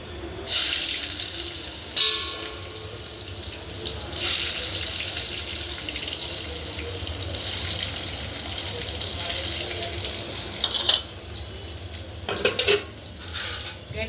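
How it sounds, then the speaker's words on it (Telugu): Onions and green chillies fry in hot oil for a chicken curry cooked over a wood-fired stove, a steady sizzle running throughout with occasional stirring clatters and metallic clinks, under intermittent talking. "చికెన్ కూర చేసుకోవడానికి ఉల్లిపాయలు పచ్చిమిర్చి వేయించుకుందాం"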